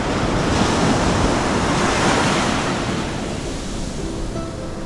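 Ocean waves breaking in a shore break on a beach at Nawiliwili, Kauai, a loud continuous wash of surf with wind across the microphone, easing slightly toward the end.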